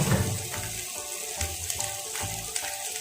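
Spices fry with asafoetida for radhaballavi, making a steady, close sizzle broken by a few rhythmic scraping stirs, with no talk.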